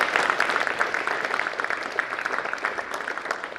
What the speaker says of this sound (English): So give these guys a big round of applause,